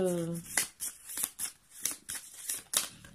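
Tarot cards being shuffled by hand during a reading, a series of soft papery riffles and slaps in irregular bursts, close and quiet, with a brief voice at the start.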